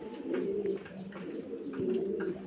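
A pair of Spanish pouter pigeons coo nearby in two soft, rolling bursts, the low throaty calls swelling and fading with a short pause between, and no voices over them.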